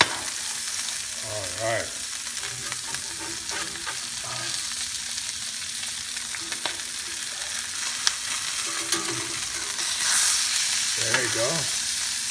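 Salmon sears in lemon butter in a pan with a steady sizzle throughout, joined by a few stirring or utensil sounds, while a voice speaks briefly near the end.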